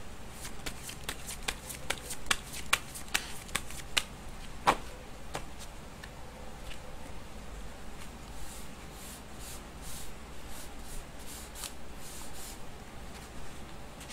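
Tarot cards being shuffled for a fortune reading, a soft, continuous riffle of card edges with quick flicking taps. The flicks come thickest at first, then settle into a quiet, even rustle throughout.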